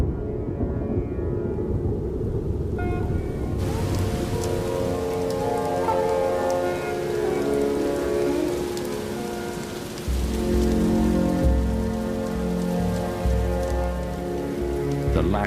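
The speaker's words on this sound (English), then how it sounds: "lashing rain will test the king cobra's nest" Heavy monsoon rain sweeping in from the Indian Ocean pours down steadily and loudly, a dense continuous hiss of drops drumming on surfaces, swelling to a deeper, heavier roar partway through.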